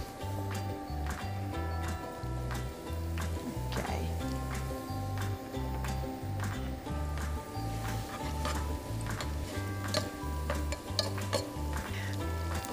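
Chopped onion sautés in a pot, a steady soft sizzle under repeated utensil scrapes, stirring knocks and clinks against the pan, with quiet background music throughout.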